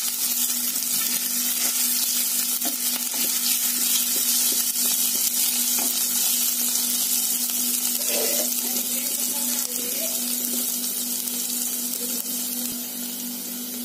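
Chopped garlic and grated ginger sizzle steadily in a hot pan while being stirred, a constant close frying hiss with occasional scraping, and no talking over it.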